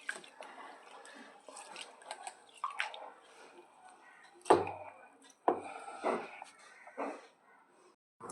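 Soaked urad dal being washed and squeezed by hand in water, with soft intermittent splashes and wet squelches, a couple of sharper knocks against the bowl, close and fairly quiet.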